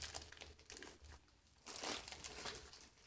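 Faint crinkling and rustling of a FedEx mail package holding ice yarn, as plastic wrapping is handled in bursts of crackly crumpling at close range.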